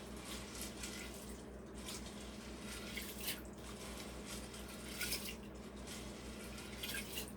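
Tap water runs steadily into a sink, with splashing and dripping, swelling now and then as things are rinsed under the stream.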